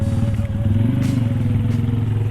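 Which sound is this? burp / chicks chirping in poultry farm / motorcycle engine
motorcycle engine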